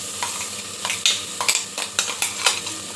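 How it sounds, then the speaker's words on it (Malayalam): A garlic, green chilli and ginger paste fries with onions in a pan, a close, steady sizzle broken by a quick rhythm of about eight scraping stirs. "നമ്മൾ ചതച്ച് മാറ്റി വെച്ചിരിക്കുന്ന വെളുത്തുള്ളിയും പച്ചമുളകും ഇഞ്ചിയും കൂടെയുള്ള ആ ഒരു പേസ്റ്റ് ചേർത്ത് കൊടുക്കാം"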